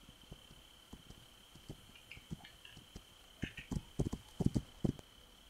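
Horse hooves clip-clopping in the video game This Land Is My Land, a steady trot of sharp thuds growing louder and closer toward the end, with no talk over them.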